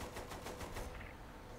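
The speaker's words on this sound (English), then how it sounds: "I have a Gatling gun." A rapid, steady burst of Gatling gun fire in Saints Row The Third, evenly spaced shots rattling for under a second before cutting off, fairly faint and without voices.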